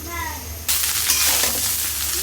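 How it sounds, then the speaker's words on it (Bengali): Green chilies, onion and dried chilies hit a hot pan and burst into a loud, steady sizzle after a short quiet start, crackling on without pause. "দিলাম কাঁচামরিচ পেঁয়াজ শুকনো মরিচ দিলাম ভেজে নেই"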